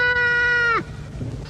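A goat bleats once, a loud, close, sustained nasal cry that ends abruptly, followed by faint background rustling.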